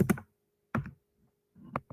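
Computer keyboard typing arrives in three short, close bursts of quick clicking keystrokes, separated by near silence.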